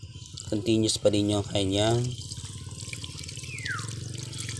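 Water trickles and flows through the ink line of an Epson L3210 printer during flushing, a steady light gush after a brief stretch of voice at the start.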